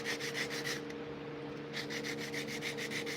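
A wooden sheath has a bevel sanded onto it, rhythmic back-and-forth rubbing strokes, close and steady, with a brief pause midway before the strokes resume over a constant background hum.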